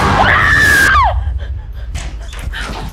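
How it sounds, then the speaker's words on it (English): A person screams loudly after waking from a bad dream, one long rising and sustained cry that breaks off, followed by quieter breathy sounds and faint movement. "How'd you scream? I had a bad dream."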